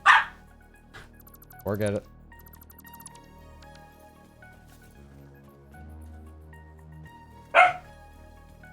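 A dog barks in three short bursts, one at the start, one soon after and one near the end, over soft electronic game music, with a brief spoken remark.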